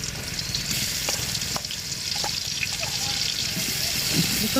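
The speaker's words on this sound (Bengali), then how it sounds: "এখন হচ্ছে পেঁয়াজ রসুন আমি ভেজে নিচ্ছি।" Onion and garlic fry in oil on a village clay stove with a continuous, dense sizzle and crackle, with occasional faint stirring clicks throughout.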